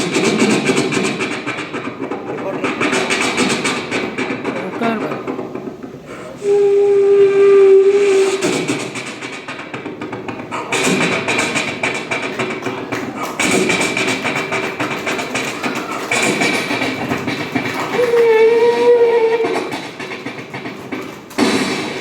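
A performer's voice mimics the Navajeevan Express, a fast train running from Bombay to Madras, with rhythmic chugging, hissing and two shrill steam-whistle blasts, held loud and continuous throughout.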